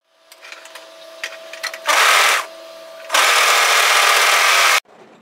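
A serger stitches through the edge of a knit sweater cuff in two loud, steady mechanical whirring bursts, a short run followed by a longer one, after a few quiet handling clicks.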